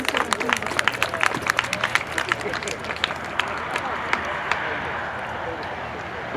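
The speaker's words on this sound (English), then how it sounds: "Give him a wave and a round of applause to this proud American" An airshow crowd at a WWII weekend claps for a P-51 Mustang pilot as the fighter taxis, a brisk burst of scattered hand claps over a public-address voice that fades into a steady outdoor hum.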